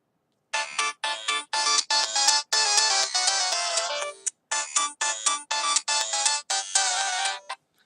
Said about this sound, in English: So yeah, that's my ringtone.